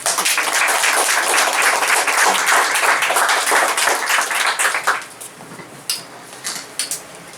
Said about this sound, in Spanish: Recibamos con un aplauso a Norma Roffo.